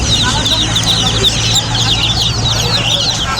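Several chickens cluck and chatter close by at the Aminbazar bird market, with a constant low hum of market background noise beneath them.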